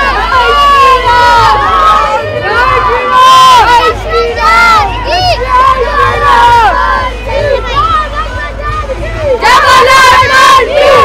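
A huge crowd packed along the road near a mosque during a Ram Navami procession in Hyderabad, with continuous loud cheering, chanting and shouting from many voices, close and dense throughout.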